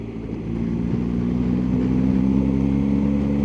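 Steady, loud road roar and tyre drone from a BMW R1250GS motorcycle on a dual carriageway, with a low hum that holds on at an even level from start to finish.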